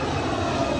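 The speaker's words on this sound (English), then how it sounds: "as you hear, an airplane's coming over right now" A fixed-wing airplane passes overhead near an airport beside a park, a steady broadband engine roar that holds loud and even throughout with no speech over it.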